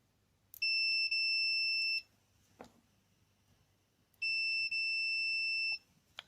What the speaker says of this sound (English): So I've got a multimeter set to continuity.